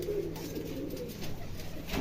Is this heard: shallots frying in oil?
no